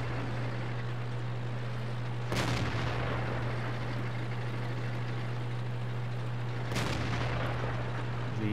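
Two heavy, booming cannon shots from a 112 tier 8 premium heavy tank in World of Tanks, spaced several seconds apart over a constant low engine hum.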